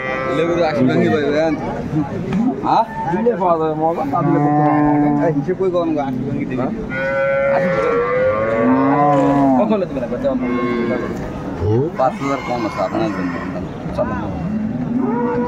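Dairy cows moo loudly and repeatedly at a livestock market in Dinajpur, long bellowing calls overlapping one another at close range, with people talking underneath.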